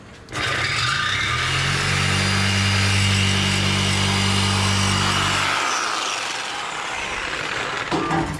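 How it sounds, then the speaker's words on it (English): A power tool whines steadily while cutting through a truck's metal exhaust hanger for several seconds, then stops, leaving a lower mechanical rumble. "I'm just gonna cut that exhaust hanger with the thing."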